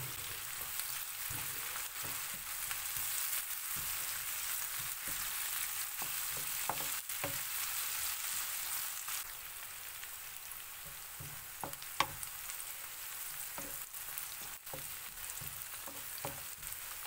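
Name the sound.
onion and chicken liver frying in a pan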